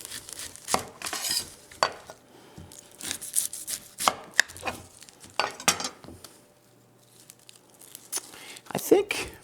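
A knife dices an onion on a cutting board, making irregular sharp chops and quick runs of taps up close, with pauses and small clatters between them while preparing stuffed peppers.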